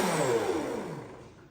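A countertop blender whirs as it purées a detox drink of broth dissolved in water with cayenne pepper, a steady motor roar that gradually fades out as it winds down, no voices.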